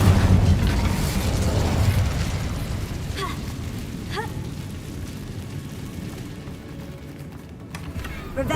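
An Incendio fire spell cast in the Hogwarts video game near a rundown bridge: a dense, roaring fiery rush with a couple of sharp bursts partway through, loud and sustained throughout.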